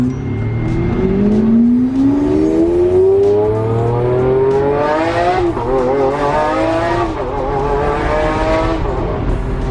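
Lamborghini Huracan engine revving hard on a road, a loud continuous roar with a rising pitch that climbs through successive gears.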